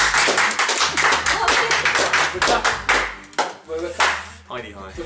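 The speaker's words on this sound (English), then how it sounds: "Round of applause for Heidi." A small audience at a vlog gathering claps in a short burst of sharp, close hand claps that thin out into scattered taps, with voices talking over the end.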